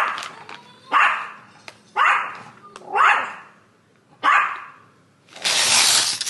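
A dog barks in a series of loud, close single barks spaced about a second apart, with a burst of broadband noise trailing at the end; no talking is heard.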